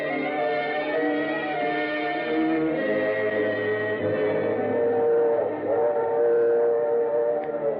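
A steam train runs as a sound effect in a 1948 old-time radio detective drama, its steady rumble layered with long, sustained whistle-like tones, with no talk over it.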